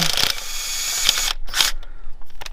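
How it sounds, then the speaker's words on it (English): On a 2008-2016 Chevrolet Cruze 1.4, a weakening cordless impact wrench works at the alternator bolts in a few short, loud whirring bursts separated by pauses. "we'll use the cordless impact to get them out the rest of the way"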